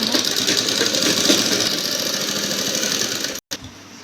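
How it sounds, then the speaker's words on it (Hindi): A sewing machine runs steadily, stitching cloth onto stiff buckram in a continuous close whir for several seconds before cutting off briefly and starting again. "हमें अब बुकरम पे तो बिल्कुल सीधी सिलाई लगा लेनी है"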